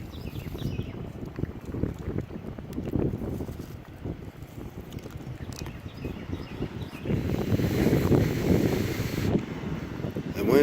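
A small campfire built without lighters or matches, blown on up close, gives a steady roaring, gusty rush with faint crackles and pops scattered through it, swelling louder toward the end.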